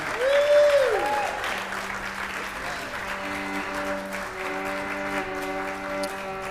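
An audience applauds after a group performance at a live stream, soft sustained clapping running throughout, with a voice early on and steady sustained tones, like held musical notes, sounding over the clapping.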